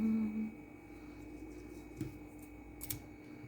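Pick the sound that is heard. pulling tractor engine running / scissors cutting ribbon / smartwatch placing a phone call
scissors cutting ribbon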